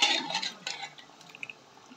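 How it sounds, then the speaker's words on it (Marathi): Mutton pieces tumble into a kadai of roasted masala with a quick clatter and soft wet thuds, a brief burst of close clinking that fades into quiet scraping. "सर्व मटण आपल्याला असं टाकून घ्यायचं आहे"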